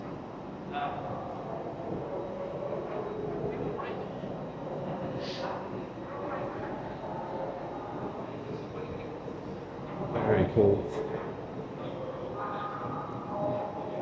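Rumbling train noise fills a large echoing station in Edinburgh, Scotland, with a few squeals and clanks, while a person speaks briefly over the steady hum.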